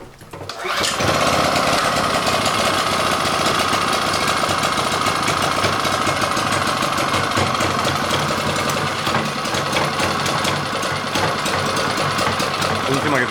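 A portable generator's engine starts up and then runs roughly and loudly at close range, a steady buzzing drone with slight unevenness that continues through the whole stretch.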